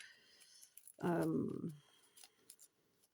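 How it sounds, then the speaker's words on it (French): Scissors cut through folded paper card in a single short, close snip lasting about half a second, with faint handling noise before and after. "je vais couper au milieu à peu près"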